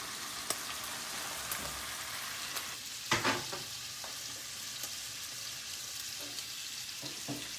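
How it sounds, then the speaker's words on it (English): Steady bubbling and sizzling roil of water boiling hard in a pot of pasta, with a few louder pops and splashes, no voices. "The water is boiling and we have our pasta in the water."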